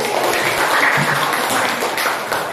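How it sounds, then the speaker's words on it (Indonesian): A classroom of pupils applauds after group presentations in an Indonesian language lesson: dense, brisk clapping from many hands, loud and close, lasting a couple of seconds. "Tepuk tangan dari tadi"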